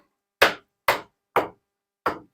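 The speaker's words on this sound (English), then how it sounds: "Get hammer." Four sharp hammer blows on a wooden planter box, evenly spaced and close, each a crisp knock with a short decay and silence between.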